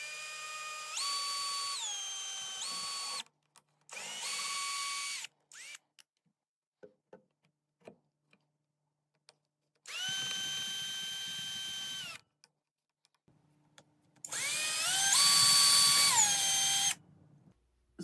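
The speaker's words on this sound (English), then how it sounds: "let me begin by pre-drilling my holes" A power drill pre-drills pilot holes into a wooden stair tread in a remote Alaska cabin, with several loud whining bursts that rise to speed and stop, separated by quiet gaps and small handling clicks.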